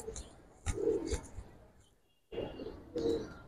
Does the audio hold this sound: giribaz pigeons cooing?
yes